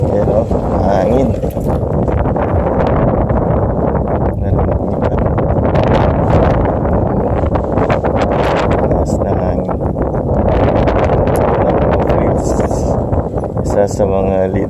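Gusty wind in Toronto, Canada buffets the microphone with loud rumbling blasts throughout, rising and falling in waves with faint rustling underneath.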